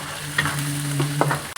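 Chicken pieces are added to onions frying in butter in a pan, giving a steady sizzle with a few scraping stirs, close and continuous.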